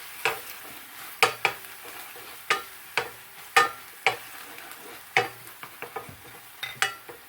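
A utensil stirs orange zest into caramelized sugar in a pan, tapping and scraping in a steady, uneven rhythm over a continuous sizzle.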